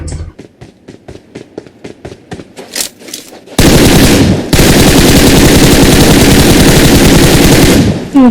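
Gunfire in the mobile battle game PUBG Mobile: scattered single shots under excited talk, then a loud, sustained automatic machine-gun burst with a brief pause before it resumes for several seconds.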